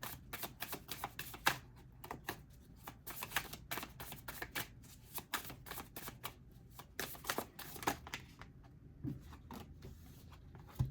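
Tarot cards being shuffled by hand, a steady run of quick, close riffling and flicking bursts that carries on throughout with no talking.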